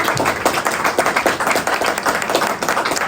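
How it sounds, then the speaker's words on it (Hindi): A church congregation claps loudly, dense crowd applause with a steady rapid patter filling the space, no voices heard. "जोरदार तालियां मारने के तुम्हारे।"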